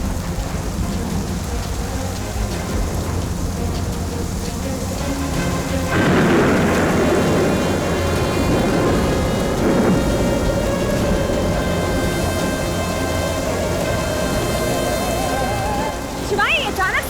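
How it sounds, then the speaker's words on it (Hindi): A heavy thunderstorm with steady loud rain and a big crack of thunder that rolls and rumbles for several seconds, constant and close throughout. "शिवाय मुझे लगता है तूफान आने वाला है।"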